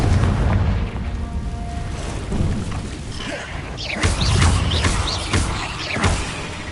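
Confringo fire spell blasts in Hogwarts Legacy inside a cave, a series of loud booming explosions with rumbling tails, several bursts in quick succession.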